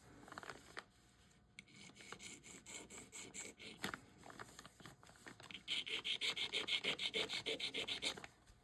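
A metal tool scrapes a gold jewelry pin to test whether it is plated. It gives faint, close rubbing and rasping strokes, scattered at first, then a steady run of quick, brighter scrapes near the end.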